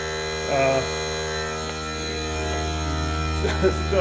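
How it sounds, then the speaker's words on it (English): A small Harbor Freight air compressor runs off around a corner, giving a steady, moderately loud electric hum with a faint low drone and a few brief bumps in intensity; there is no talking. "I've got the air compressor, which I've just had."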